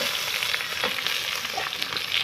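Steady, close sizzling of tomatoes added to fried onions in hot oil, with occasional stirring noises.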